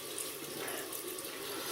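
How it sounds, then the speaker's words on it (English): Hot water running from a bathroom tap before a wet shave, a steady, bright hiss of flowing water with no talk. "So just gonna give this a bit of a dampener, hot water."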